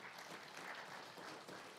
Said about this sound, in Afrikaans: Kom ons gee ook vir hulle 'n lekker hande klap